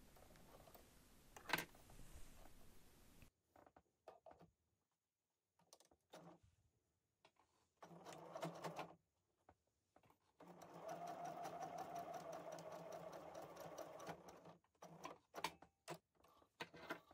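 A sewing machine stitches fabric for a small Christmas gift pouch in runs of rapid, steady whirring of varying length, separated by short stops and clicks and a brief rustle at the start, close up and with no talking.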